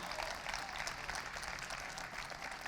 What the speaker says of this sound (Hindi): सरवत हुसैन के लिए भरपूर तालियां बजाइए प्लीज।